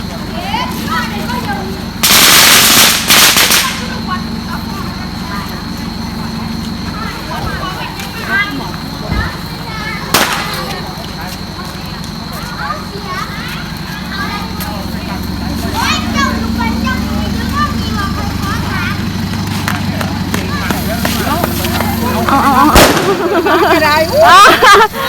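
Loud, sharp bursts of firecrackers crack out over a busy outdoor crowd at a village celebration, with a big cluster early on and scattered pops later amid chatter and children's voices.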